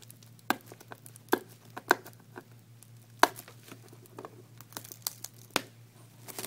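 Chinese security tape on stretch wrap being pulled off, a run of sharp crackling tears and crinkles in irregular bursts, close and clear over a faint steady hum.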